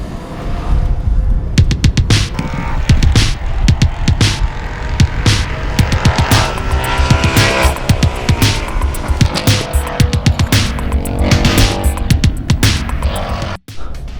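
Scion tC on a race track, its engine humming and throbbing loudly and continuously with rapid rhythmic pulses, close up and uninterrupted.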